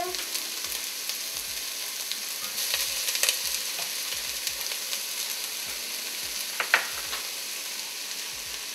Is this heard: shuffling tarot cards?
no